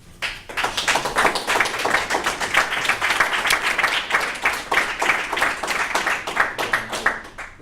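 Audience applause at an award ceremony for two absent certificate recipients: steady, dense hand clapping from a modest crowd, even and sustained throughout with no talk over it.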